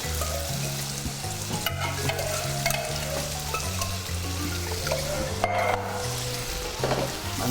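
Food sizzles and fries steadily in a pan after white sauce is added, with scraping and stirring sounds throughout, close and fairly loud. Low tonal music plays underneath and no one speaks.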